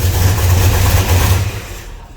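A Plymouth Road Runner with a swapped engine revs loudly and close up, a deep throaty roar that holds steady before easing off at the end.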